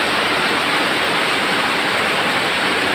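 Heavy rain pours down onto a street while runoff rushes along it, forming a steady, dense, loud wash of noise with no voices.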